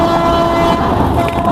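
The 13149 Kanchankanya Express runs through the Dooars jungle in monsoon weather, with a loud, sustained horn tone held over the close, steady rumble of the moving carriages.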